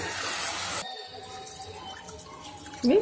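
Water in which foxtail millet was soaked pours in a brief, full splash, then drops to a quieter trickle with a few drips close by.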